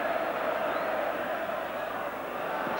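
Huge travelling Coventry football crowd of about 15,000 in a stadium during an FA Cup quarter-final, a distant sustained roar of cheering and chanting that stays at a steady level.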